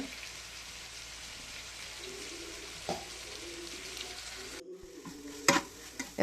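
A quiet scraping and stirring of chicken sukka masala in a pan over a faint background sizzle, with a few clinks of the spoon near the end and a soft voice murmuring briefly.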